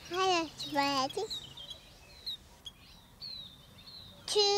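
Little bird in a children's TV programme, a few thin high chirps and tweets scattered between louder child-like voices speaking.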